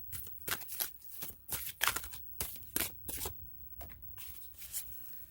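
Tarot cards being shuffled by hand, a quick run of crisp riffling bursts and soft slaps repeating irregularly for several seconds at close range, with no voices.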